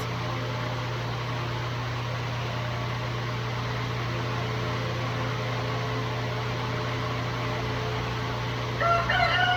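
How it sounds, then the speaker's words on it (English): A rooster crows in a long drawn-out call, heard faintly at a distance over a constant electrical hum and background hiss. "You hear my rooster?"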